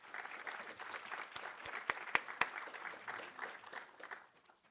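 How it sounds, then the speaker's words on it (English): Audience applause at an arts awards ceremony, a fairly quiet wash of many hands clapping with a few sharper, closer claps standing out before it tapers off at the end. "So let's applaud for that too."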